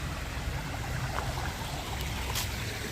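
A small creek trickles along in a steady, soft wash of running water, continuous and moderately close, with faint background noise and no talking.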